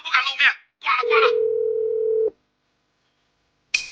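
A telephone dial tone sounds for about a second right after a call is hung up, a steady electronic hum following brief speech, with a voice returning after a pause.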